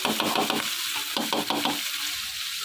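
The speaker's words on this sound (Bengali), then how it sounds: "তেলটা গরম হয়ে এসেছে, এখানে আমি মাংসটা দিয়ে দিলাম" Chicken breast fries in hot oil, a close sizzle broken by short bursts of stirring and scraping in the pan, busier at first and then settling into a steadier hiss.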